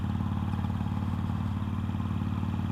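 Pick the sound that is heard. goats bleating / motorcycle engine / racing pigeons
motorcycle engine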